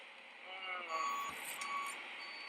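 A tow truck reverses to haul away a car at a roadside police stop. Faint, steady reversing beeps sound at a distance over a low muffled background.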